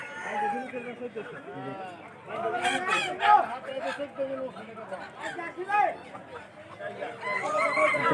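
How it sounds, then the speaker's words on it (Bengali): Roosters crow repeatedly over a dense din of clucking hens and ducks at a large rural poultry market in Dhanbari, Tangail, with crowd chatter and voices mixed throughout. "বিশাল বড় এক মুরগির হাট এখানে প্রচুর হাঁস মুরগি"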